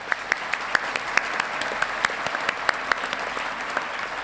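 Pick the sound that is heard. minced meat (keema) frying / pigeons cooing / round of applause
round of applause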